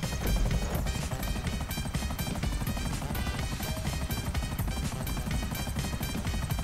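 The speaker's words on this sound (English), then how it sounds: "The helicopter's so hard to control." A helicopter in the video game GTA 5 Online flies during a race, its rotor producing a rapid, relentless chopping thud that stays loud and close throughout.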